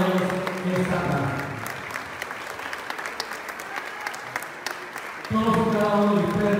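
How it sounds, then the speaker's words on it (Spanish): An audience applauds award recipients honoured with a medal for professional excellence, a full burst of clapping between stretches of a voice over a loudspeaker. "Fuerte el aplauso para cada uno de ellos en esta tarde."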